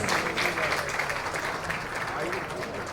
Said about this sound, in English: Let's welcome her with a huge round of applause.